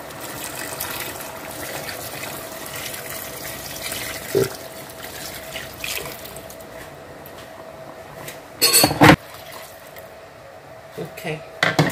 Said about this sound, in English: So we add water to this.